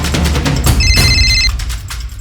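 A telephone rings for an incoming call, a loud trilling bell burst heard close amid background noise.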